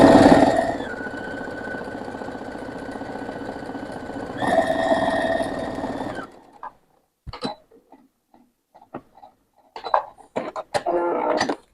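Sewing machine stitching slippery chenille fabric on curved pieces for a Christmas kitchen decoration, a steady motor whir running for about six seconds with a brief pause, followed by quieter handling clicks and rustles.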